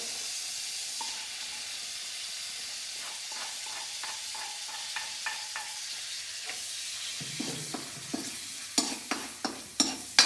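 Pounded chili and garlic frying in hot oil: a soft continuous sizzle with repeated stirring taps and scrapes that grow louder and quicker toward the end, close and without talk.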